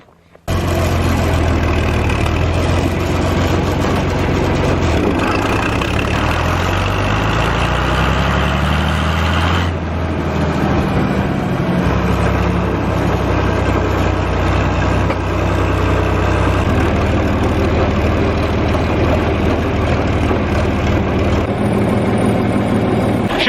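An old 40-20 tractor engine idles steadily at close range, a loud low rumble with a brief dip in the middle and no talking.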